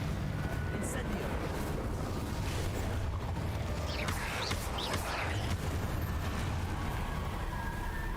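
An Incendio fire spell is cast in the video game Hogwarts Legacy, giving a sustained roaring, crackling rush of flame with swishing bursts in the middle, loud and continuous over dense game noise.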